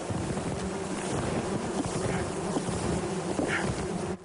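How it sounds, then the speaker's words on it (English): Several thousand bees swarm inside a box, a dense steady buzzing that fills the whole stretch, close and continuous with no talk. "box is buzzing with a few thousand bees"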